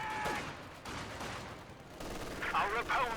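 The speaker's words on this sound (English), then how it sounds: "MG42 is firing against this combat engineer squad." Machine-gun fire from an MG42 in the game Company of Heroes 2, rapid bursts of gunfire mixed with battle noise and a voice talking over it.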